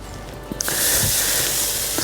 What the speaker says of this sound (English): So I'm now going to give our beef a quick reverse sear on all sides.